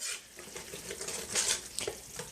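A thick vegetarian BIR-style Madras curry sauce roasts and sizzles in a pan, a steady hissing fry broken by occasional stirring scrapes and louder spitting pops.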